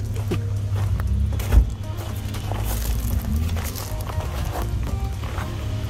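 A Subaru driving through a muddy bog, a steady engine drone under sloshing, knocking and clunking from the wheels and body, with one sharp thud partway through.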